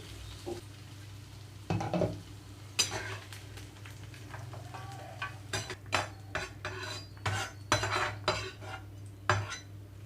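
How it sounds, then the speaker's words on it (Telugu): Bottle gourd pieces fry in an oiled pan, with a low background sizzle under irregular clinks and scrapes of a spoon stirring against the pan, growing busier toward the end. "ఇప్పుడు సొరకాయ ముక్కలన్నీ వేయించుకోవాలి కదా"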